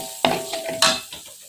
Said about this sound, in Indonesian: Nah, ini kita tumis seperti ini.